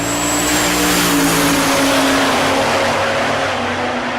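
Drag race cars launching at Tulsa Raceway Park, including a diesel Duramax-powered 1970 Chevelle, a loud, continuous roar of engines at full throttle, dense and close, filling the whole stretch.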